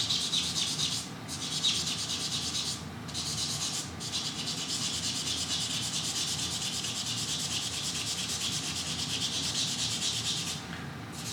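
Soft abrasive pads rub back and forth along the metal frets of a Firefly Les Paul Jr electric guitar, a steady close-up scratchy hiss with a few brief pauses between strokes.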